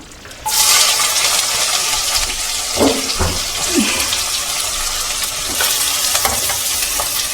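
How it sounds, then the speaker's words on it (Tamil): Fennel seeds frying in hot oil in a pan for a fish dish, a steady loud crackling sizzle that runs throughout with a few brief stirring scrapes and pops, no talking. "சோம்பு நல்லா பொடியட்டும்"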